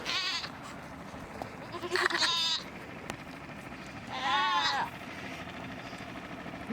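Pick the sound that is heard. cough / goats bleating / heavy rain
goats bleating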